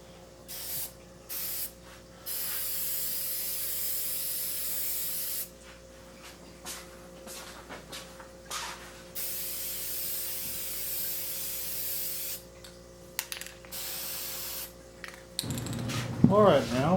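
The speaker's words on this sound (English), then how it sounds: "now we're going to spray a little gold paint into all the etched areas." Gold spray paint hisses from an aerosol can onto etched glass on a glass robot figure, in repeated short and long bursts with quiet gaps between them, close to the microphone.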